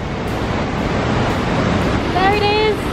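A Yosemite waterfall on the Mist Trail roars as a steady, dense wash of falling water, and a voice briefly rises over it near the end.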